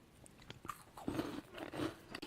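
Close crunching and chewing of a crisp puffed snack made with rice and soybean flour, several crackly bites in a row without any talking.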